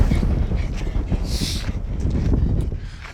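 Strong wind buffeting the microphone on a hilltop in the northeast of England, a loud steady low rumble with gusty flutter throughout.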